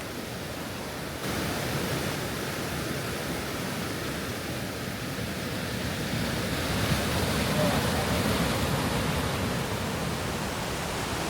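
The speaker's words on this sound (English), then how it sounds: "Then it was on to some beautiful Fiordland forest and more cascades at Marion Creek." Continuous rushing water, a broad steady roar of forest creek cascades at Marion Creek in Fiordland, New Zealand, growing slightly louder partway through.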